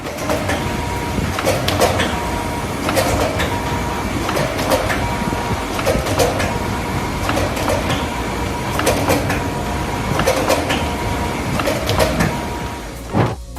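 An industrial machine straightens and cuts 0.1-inch metal wire with a loud, continuous mechanical clatter, punctuated by regular sharp clacks about every second, sounding close and steady throughout with no voices.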